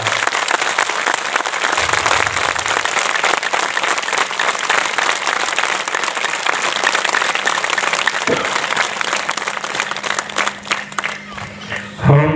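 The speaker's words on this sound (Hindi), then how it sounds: "मातृशक्ति के सम्मान में एक बार विशेष तालियों की गड़गड़ाहट।" An audience breaks into sustained thunderous applause in honour of women at a devotional gathering, dense clapping filling the hall for about ten seconds before thinning out, with a few voices briefly audible near the end.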